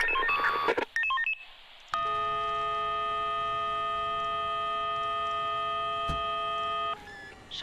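A phone alert tone plays in the Emergency 4 video game as a rescue helicopter is called: a short burst of dialing tones, a pause, then a steady multi-tone signal that holds for about five seconds before cutting off.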